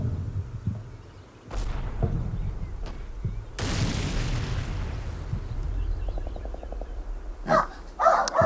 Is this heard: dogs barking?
yes